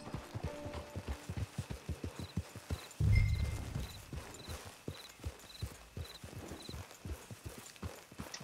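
Horse hooves clip-clopping at a steady walking rhythm in Red Dead Redemption 2, close and distinct, with a brief rustling burst midway and faint game ambience beneath.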